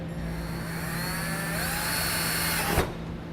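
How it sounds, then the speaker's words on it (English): A power drill whines steadily at close range for about three seconds while drilling holes, its pitch shifting slightly, then stops abruptly. "Go ahead and drill out the holes we marked"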